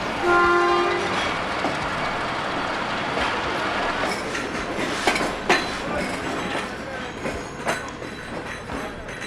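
A train passes through Attock Khurd railway station, opening with a loud horn blast over a steady, close rumble and clatter of wagons that continues throughout.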